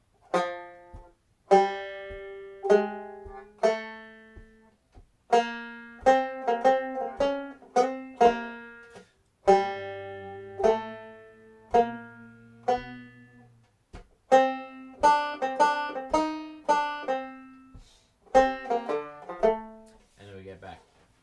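A tenor banjo picks out the bridge melody of a song slowly in single notes, each bright plucked note decaying quickly, in short phrases separated by brief pauses.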